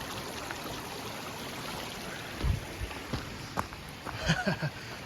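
A mountain stream beside a hiking trail near Flat Top in Alaska flows with a steady close-up rush and gurgle, with a few louder splashes near the end.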